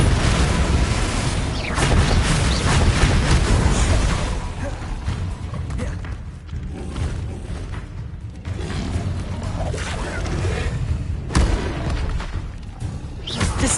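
Confringo blasting spells set off heavy booming explosions in the video game Hogwarts Legacy, a dense rumbling barrage with a few sharper blasts and crackles layered over battle sounds.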